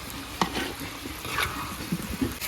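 Food sautés in a village kitchen pan, a steady sizzle broken by several clinks and scrapes of stirring, close up and without speech.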